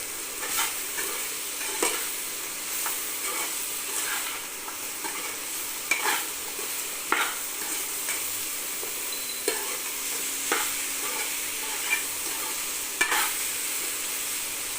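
Mixed vegetables being sautéed with masala in a pan for a four-vegetable poriyal, a constant crackling sizzle up close punctuated by occasional sharp scrapes and taps of a spoon against the pan.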